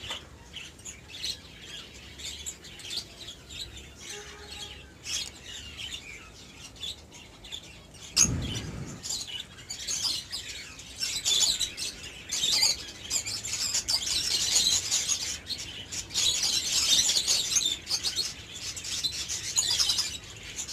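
Pet budgerigars chirp and twitter in a breeding cage, a mature female among them, with a busy stream of soft high calls that grows louder and denser in the second half, plus a brief rustle or knock partway through.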